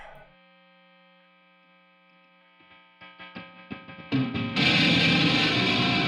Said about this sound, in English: So that's the neck pickup making that noise.